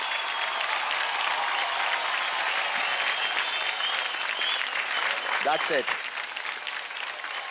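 Loud, sustained applause from a large studio audience on a televised dance competition's elimination episode, for contestant Sneha Kapoor. It fills the whole stretch with a dense, even roar, and a brief voice cuts through near the end.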